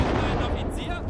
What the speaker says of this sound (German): direkt super Explosion hier.